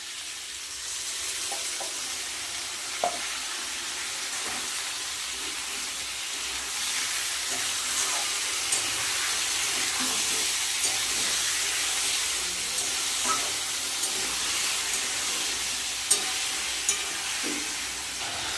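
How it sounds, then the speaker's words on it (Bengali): Vegetables fry in a pan with a ground paste of ginger, cumin, tomato and dried chilli for a light rohu fish curry, making a steady, dense sizzle with occasional clinks of stirring. "সবজি কিন্তু প্রায় ভাজা হয়েছে এবার আমি বেটে রাখা মশলাটা দিয়ে দেবো"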